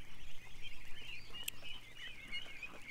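Ducks and other farm birds call faintly from a distance, with soft overlapping honks and quacks running continuously over a quiet background.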